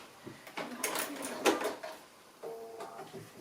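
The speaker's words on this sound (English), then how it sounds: "Just like to finish my edges off with a back stitch." A sewing machine runs short back-stitching bursts along the edges of cork fabric for a card wallet. The mechanical whirring and clicking comes in brief uneven spurts with small pauses, close and moderately loud.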